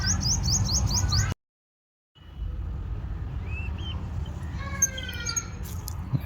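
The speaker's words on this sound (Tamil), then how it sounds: "எவ்வளோ ஒரு குட்டிக்கு உண்டான ஒரு குருவி" A tiny sparrow chick in a nest built on a leaf of a small plant gives a quick run of high, thin chirps, then the sound cuts out briefly before fainter chirps return over outdoor background noise.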